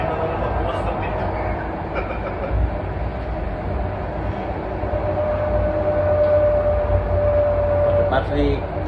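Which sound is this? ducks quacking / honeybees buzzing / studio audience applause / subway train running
subway train running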